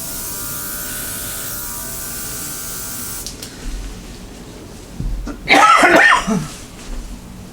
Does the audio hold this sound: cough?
yes